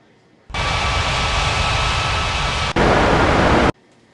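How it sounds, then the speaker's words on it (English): Airliner engines in an air traffic control video game, a loud steady jet roar that starts abruptly, holds, steps up louder near the end and then cuts off, no talk. "Finna 3981 cleared for takeoff runway 35."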